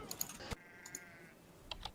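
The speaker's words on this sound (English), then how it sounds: "Evil sheep." A short sheep bleat from a video game, faint and wavering, surrounded by quick clicks of computer keyboard typing.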